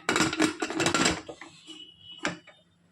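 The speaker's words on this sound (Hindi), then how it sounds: "चलिए कुकर का ढक्कन लगा लेंगे।" A pressure cooker lid is fitted on while Hyderabadi kaddu ka dalcha cooks, giving a run of close metallic clatter and clanks, followed by a quieter pause and one last sharp knock.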